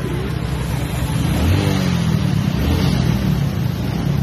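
Busy market road traffic near a beach keeps up a dense, steady rumble of vehicle engines, loud and continuous throughout with no pause.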